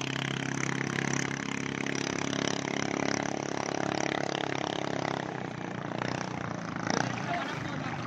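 A stock engine on a test run in Sabang, Vinson, Daet, Bicol, holding a steady idling hum that eases slightly toward the end, with faint voices in the background.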